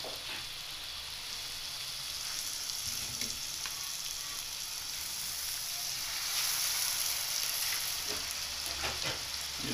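Yogurt goes into a fish curry frying in a pan over low heat, giving a continuous close sizzle and hiss with faint stirring scrapes and no talk.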